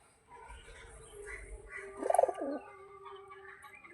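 A young pigeon, among birds kept for sale, gives a single soft coo in a quiet setting, with a faint background hum before and after.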